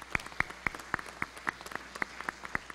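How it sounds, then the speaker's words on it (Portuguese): Sparse, evenly spaced hand claps ring out at a solemn ceremonial session after a performance, about four claps per second from a small number of people, fairly close and crisp over a quiet room. "uma salva de palmas para essa apresentação que tivemos."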